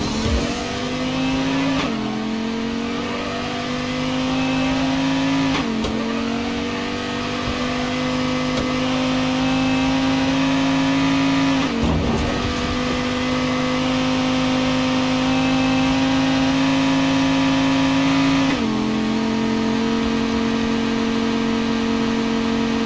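A car engine in the video game Payday 2 revs and accelerates steadily and loudly for over twenty seconds, with the pitch dropping briefly at several gear shifts before climbing again.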